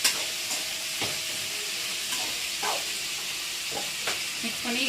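Drumstick pieces and brinjal fry in a pan, a steady sizzle and hiss running throughout, while a spoon stirs them with scraping knocks spaced roughly every half second to a second.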